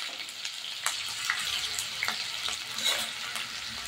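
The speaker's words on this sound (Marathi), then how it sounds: "आपला बटाटा छान आपल्याला तेलामध्ये परतून घ्यायचा आहे" Potatoes and green chilies frying in hot oil, a steady broad sizzle with a few scraping stirs of the spoon, close and continuous.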